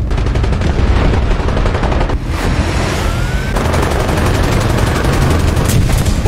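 Gunfire in an Abrams-versus-Iraqi-tanks battle simulation game, an unbroken barrage of rapid machine-gun fire and booming cannon shots, loud and close, with no talk.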